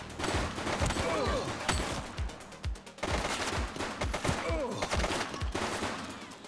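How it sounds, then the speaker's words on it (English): Gunfire in the police game The Precinct: rapid, steady volleys of shots, loud and close, running almost without a break through a busy firefight, with voices mixed in. "He's shooting!"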